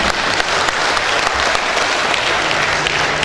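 Audience at a mayoral candidates' public debate in Dumai clapping for a sign language interpreter, a dense, loud, even round of applause with no voices.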